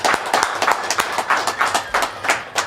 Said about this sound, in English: Let's clap it up for Natalie.